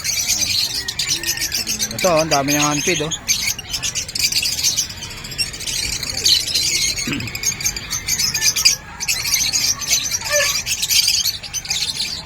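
Pet birds such as green-cheek conures at the Bocaue pet market squawk and chirp in quick, scattered calls, with one louder stacked squawk run early on, all under steady nearby talk and market bustle.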